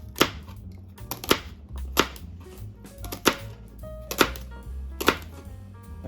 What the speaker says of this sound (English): cut it the way you want to cut it